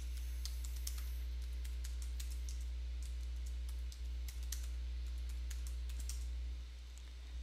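Keys clatter on a computer keyboard as a password is entered for an admin account during a network sensor setup, a run of quick close clicks over a steady low electrical hum, with no talk.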